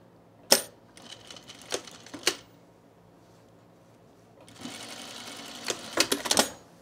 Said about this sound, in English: And we're just going to sew that little section.